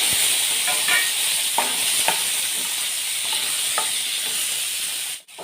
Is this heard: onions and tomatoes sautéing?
yes